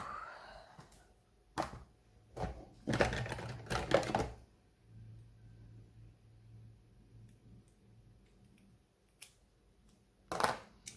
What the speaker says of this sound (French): Mes petits ciseaux.